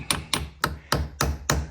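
Seven sharp metallic taps from a small ball peen hammer on a car battery terminal in an even rhythm, close and loud, each ringing briefly before the next strike.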